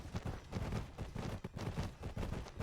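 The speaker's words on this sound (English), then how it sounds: "I'm going to fire on this Hunchback's rear arc." Mech weapons fire on a Hunchback's rear armor in the RogueTech BattleTech game, a rapid run of repeated heavy gunfire bursts, fairly quiet and without talk over it.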